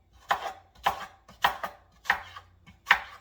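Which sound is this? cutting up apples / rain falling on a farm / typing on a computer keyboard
cutting up apples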